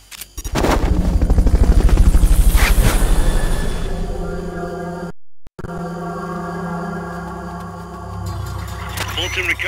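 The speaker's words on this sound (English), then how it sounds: "Fulton recovery helicopter is complete." Fulton recovery helicopter in Metal Gear Solid: Peace Walker, a loud rotor-driven rumble with heavy low-end thumping in the first seconds, then a steadier droning hum after a brief dropout.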